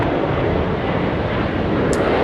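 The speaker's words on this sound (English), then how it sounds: "So this aircraft here, off to Ayers Rock." A jet airliner at Sydney Airport, bound for Ayers Rock, gives a steady broad roar that holds constant through the whole stretch, loud and unbroken with no voices over it.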